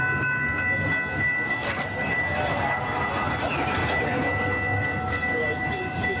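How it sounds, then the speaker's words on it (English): A train rolls steadily past on railway tracks at a level crossing, a loud continuous rumble with wheel noise and a faint high squeal, close by and filling the whole stretch without a break. "the train was going that way"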